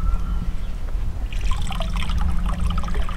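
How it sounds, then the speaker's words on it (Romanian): Water runs from a tap fed by a forest well, a steady close trickle and splash that grows fuller and brighter partway through, with no talking. "Dă drumul la robinet să văd."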